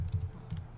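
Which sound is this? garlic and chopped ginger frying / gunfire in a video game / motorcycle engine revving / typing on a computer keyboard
typing on a computer keyboard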